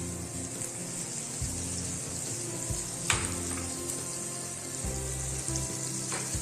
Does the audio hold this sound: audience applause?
no